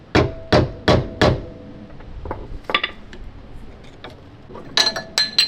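A slide hammer is worked on a car's wheel bearing, four sharp metallic knocks in quick succession followed by softer clinks and a few more strikes, close and loud.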